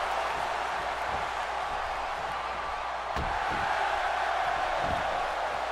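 Steady roar of an arena crowd in the WWE 2K17 wrestling game, with dull slam thuds from the ring landing at intervals beneath the constant cheering.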